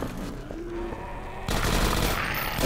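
Gunfire from a Half-Life 2 Episode 1 player shooting at security cameras, a sudden dense burst of rapid shots that fills the second half after a quieter stretch of game ambience, loud and continuous.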